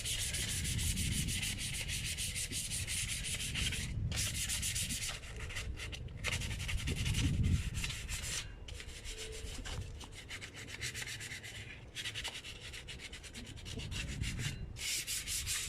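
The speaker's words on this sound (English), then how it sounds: "let's go ahead and get this all sanded up" Sandpaper rubbing steadily over patio furniture being prepped for spray paint, including the legs with the piece turned on its side; a continuous close scratchy abrasion with brief pauses and no talking.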